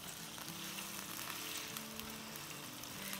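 Potatoes fry in a pot with garam masala, a steady dense sizzle heard close and fairly quiet, with a few faint stirring scrapes and no voices.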